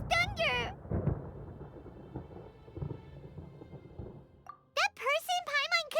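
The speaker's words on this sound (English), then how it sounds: "Paimon hears thunder!" A low rumble of thunder rolls through a scene in the video game Genshin Impact, sitting between short bursts of high character voices at the start and end.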